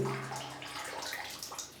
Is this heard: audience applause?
no